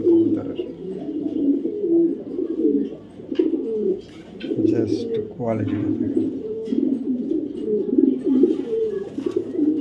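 Racing pigeons, including a female Maxi racer from the BRPFC club, coo in low repeated throaty rolls close by, with someone talking over them.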